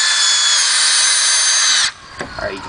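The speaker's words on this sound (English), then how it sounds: "I'm going to fasten them in place with these screws, which are good for treated lumber." A power drill whines steadily as it drives screws through mending plates into treated lumber on a wooden fence gate, loud and close for almost two seconds before stopping, followed by faint handling clatter.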